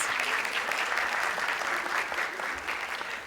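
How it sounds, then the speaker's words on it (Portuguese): An audience at a panel discussion on digital literacy and media education breaks into sustained applause, a continuous even roar of many hands clapping with no pause. "uma salva de palmas."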